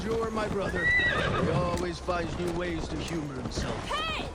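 In Assassin's Creed Valhalla, a horse whinnies repeatedly over the steady clip-clop of hooves, with a voice talking over the game sounds.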